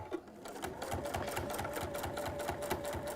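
Domestic sewing machine running a steady straight stitch through fabric, needle rattling in a fast even rhythm, close and continuous for the whole stretch with no talking.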